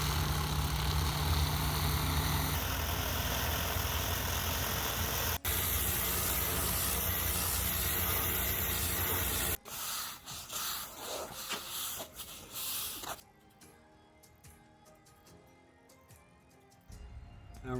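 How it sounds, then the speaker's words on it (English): Hot water pressure washer running at 8 gallons a minute, stripping failed coating off driveway pavers: loud steady spraying hiss with engine drone, then cutting to quieter, uneven spraying and softer hiss toward the end. "turn on the 8 gallon a minute hot water unit, pressure wash all of this coating off"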